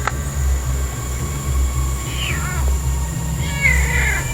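A black cat gives two or three short meows at close range while a low rumbling drone, like a passing train, continues underneath the whole time.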